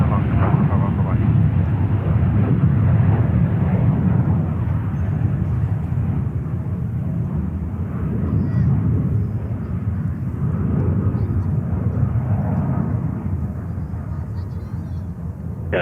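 A Delta Boeing 747 takes off from runway 13 right at JFK, its engines producing a steady, loud, broad roar that holds for about sixteen seconds. Tower radio talk runs underneath.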